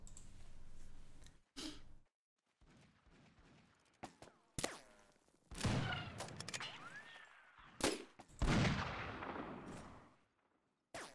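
Pistol shots and other gunfire in Mount and Blade Warband, played with an 1860s Old America mod: a series of loud, sharp bursts spread irregularly over the clip, with gaps of quieter rumble and clatter between them.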